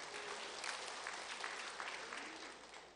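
Church congregation applauding at an evening evangelism testimony service, a steady, dense wash of clapping hands that fills the whole stretch at a moderate distance without pause.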